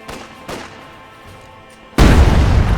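A demo charge detonating in Company of Heroes 2 lands as a sudden loud, heavy blast after a couple of duller thumps, its roar rolling on and filling the end of the moment.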